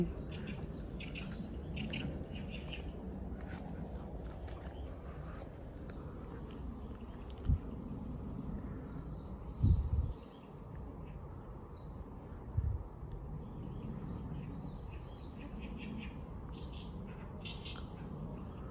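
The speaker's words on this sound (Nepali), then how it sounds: "चराहरू हल्का कराइरहेको छन्" Faint, scattered bird calls and chirps drift over a steady outdoor hiss at Kasai bird sanctuary in Tokyo, with a few soft thumps and rustles close by.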